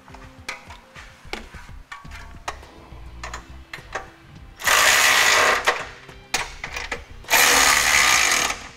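A power tool tightens the hardware on a Curt trailer hitch receiver, running in two loud, sustained bursts after a stretch of quieter ticking, clicking and handling sounds nearby.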